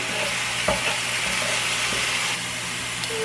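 Ground beef frying in a pot with a steady broadband sizzle, a few soft scrapes and clicks from a non-metal utensil stirring it, fairly close and continuous with no talk.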